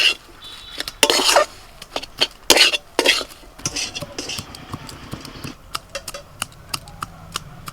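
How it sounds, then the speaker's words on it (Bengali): Fried spices are stirred into a mushroom filling, with a spoon scraping and clinking against a pan in irregular sharp knocks, louder early on and then lighter, quicker taps. "ভাজা মশলা দিয়ে দিচ্ছি ভালো করে মিশিয়ে নেব"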